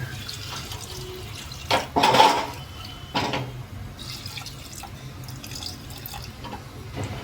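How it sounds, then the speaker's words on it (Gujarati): A short splash of water poured into a metal pressure cooker over potatoes and peas, a couple of seconds of gushing over low background hum, then quieter drips. "બટેકાને વટાણા બુડે તેટલું જ પાણી નાખીશું"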